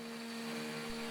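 A CNC router cuts a skull candy dish, giving a steady, even motor whine with a faint tonal hum that holds without change.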